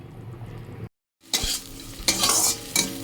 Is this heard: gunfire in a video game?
no